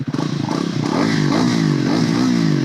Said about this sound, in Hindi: रेव किया जाए तो कुछ ऐसा है तो बीट साउंड, क्योंकि ये सिंगल सिलेंडर मोटरसाइकिल है।